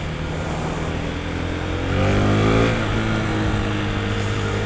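A Husqvarna Vitpilen 401 motorcycle engine revs up, its steady mid-pitched drone swelling louder and rising in pitch for a couple of seconds before easing back to a steady run, close by with no talk.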